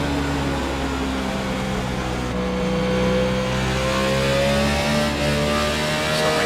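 A race car engine at Bristol in iRacing: a loud, steady engine drone runs throughout, its pitch sweeping slowly upward as the car accelerates down the backstretch and out of the turn, with no talk over it.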